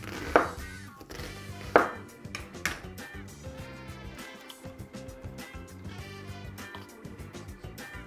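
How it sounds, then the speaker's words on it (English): A knife chops onion into small pieces on a board for a grilled-fish sauce, giving irregular sharp taps, a few louder strikes early, under soft background music. "I'm gonna use the remaining of the onion. Just cut it into small pieces to blend it."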